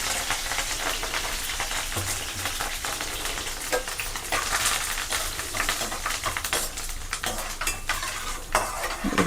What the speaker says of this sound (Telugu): అదిగోండి వేగుతున్నాయి కదా